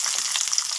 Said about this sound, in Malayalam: വെളിച്ചെണ്ണ ചൂടാകുമ്പോൾ ഉള്ളി ഇട്ട് കൊടുക്കുക.